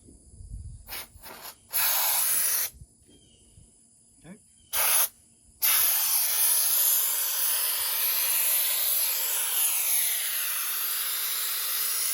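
A can of spray foam sprays in short bursts and then in one long steady hiss, close and loud, with faint handling noise between the bursts.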